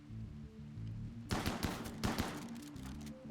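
Shotgun fire in RimWorld, a burst of several sharp blasts in quick succession over a steady low background hum, followed by a few fainter scattered shots.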